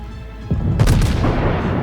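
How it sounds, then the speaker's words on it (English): A heavy battleship shell hit from the Bismarck in a naval video game lands as a sudden deep boom, followed by a rumbling, crackling impact that lingers loudly, no talking. "Oh, that was a big hit from the Bismarck."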